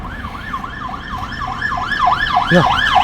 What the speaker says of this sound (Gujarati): એમ્બ્યુલન્સ આવે એટલે ગાડી ઊભી જ રહી જાય